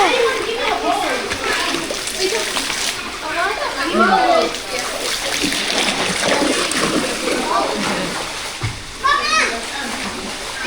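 A child plays in shallow water outdoors, splashing in several bursts amid a noisy mix of children's voices and adult talk throughout.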